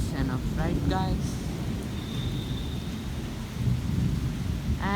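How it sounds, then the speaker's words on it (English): A heavy thunderstorm during heavy rain in Hyderabad: a steady roar of rain with deep rumbling thunder throughout, and brief talk at the start and end. "now the thunderstorms are either back of my house or this house is blocking the way"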